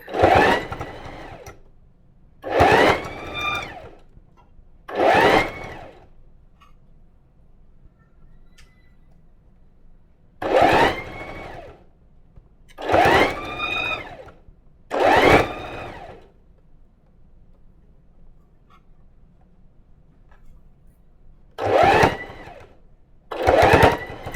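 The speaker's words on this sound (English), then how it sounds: "So I am stretching it as I sew." Sewing machine stitching hoodie cuffs while the fabric is stretched, running in about eight short bursts of a second or so, separated by quiet pauses, close and clear with no talking.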